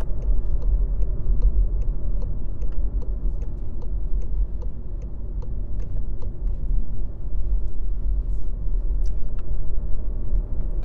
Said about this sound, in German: So, jetzt fahren wir auf die Autobahn.